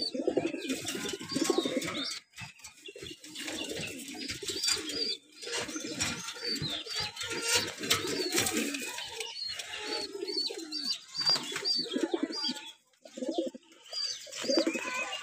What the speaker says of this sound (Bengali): এই হলো একটা মাদি কবুতর।